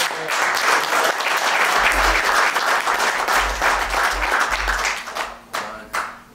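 Loud audience applause at a radio conference fills the room, a dense wash of many hands clapping that thins out into a few scattered claps at the end.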